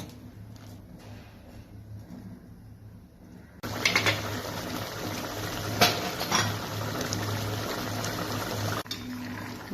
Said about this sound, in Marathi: शिजू द्यायचं पाणी थोडंसं